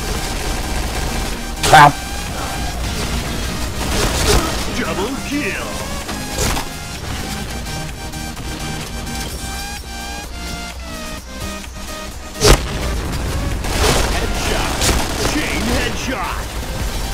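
Rifle fire in the shooter game Point Blank, with an AUG A3 and other guns, comes as short loud bursts and single shots spread over several seconds while people talk throughout.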